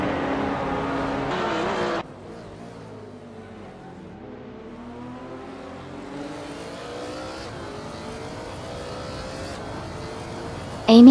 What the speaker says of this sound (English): Amy is currently in 8th place with the 2008 KTM Crossbow GT4.